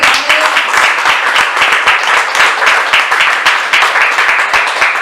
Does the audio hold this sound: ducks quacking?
no